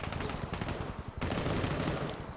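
Rapid bursts of automatic gunfire in a Vietnam-themed multiplayer video game match rattle continuously with a game-like, slightly muffled quality, one brief gap midway and a faint beep near the end.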